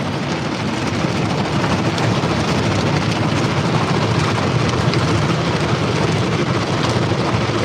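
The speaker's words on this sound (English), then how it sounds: "I'm in the car wash." A car wash sprays water and runs its equipment around a car, a loud, continuous rushing hiss like heavy rain on the body, heard steadily from inside the vehicle.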